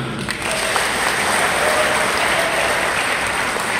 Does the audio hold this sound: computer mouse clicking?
no